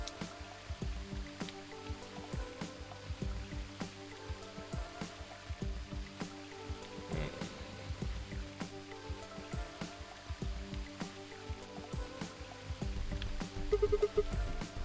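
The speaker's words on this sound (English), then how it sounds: "The water from the waterfall splashes over it, though." A waterfall in a video game splashes steadily, with a continuous watery wash broken by many small drip-like splashes and trickles, moderately loud and close, with no talk.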